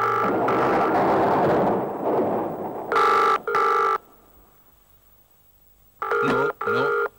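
A telephone in the 1994 Hindi crime serial Tehkikaat rings in two pairs of loud, clear bursts separated by a pause, following an opening stretch of heavy, rumbling noise.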